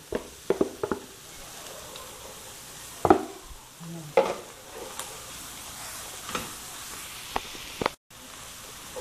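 Close sizzling of chopped pork lung, heart and spleen frying in a pan for bopis, with intermittent stirring scrapes and clicks, a low steady fry underneath and a brief dropout near the end.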